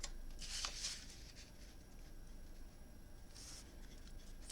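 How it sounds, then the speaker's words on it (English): Card stock being cut down to size for a handmade birthday card, giving short scratchy slicing bursts early on and again near the end over a steady hiss, fairly close and moderately loud. "Cut it all the way down here"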